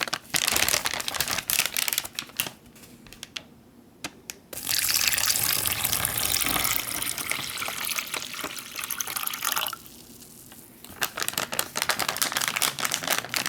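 Water pours steadily into an MRE bag in loud gushing bursts, pausing briefly twice before resuming, close up and without any talking.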